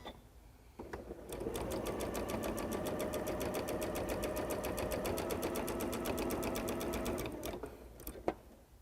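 A sewing machine runs steadily for about seven seconds stitching a long gathering stitch along a fabric flower's straight edge, its rapid even needle clatter loud and close, then stops with a final click.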